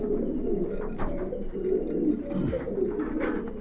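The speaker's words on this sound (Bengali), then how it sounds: "এগুলো হলো সাহারানপুরি কালদম" Saharanpuri Kaldom pigeons, long-necked flying birds on a Bangladeshi loft, coo continuously in low rolling murmurs, several birds overlapping close by in a steady chorus.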